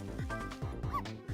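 In the video game Ghost Trick: Phantom Detective, a small dog gives a rapid run of short, yappy barks and yips, several in quick succession, close and clear.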